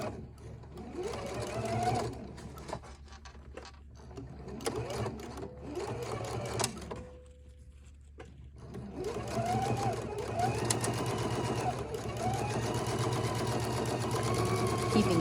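A Husqvarna Viking sewing machine with an invisible zipper foot runs in bursts of rapid mechanical stitching, starting and stopping with brief pauses, fairly close, with a voice talking softly between runs.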